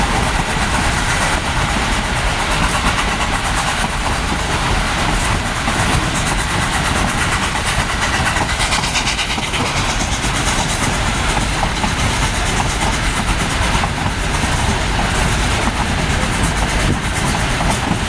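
Durango and Silverton train rolling along the rails, a loud continuous rumble and clatter of wheels and cars heard close from on board, steady throughout.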